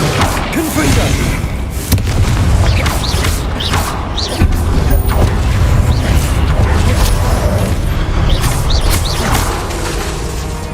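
A Confringo spell explosion in Hogwarts Legacy bursts among dense game effects, with booming thuds, mechanical clanks and creaks layered over a rumbling background, loud throughout.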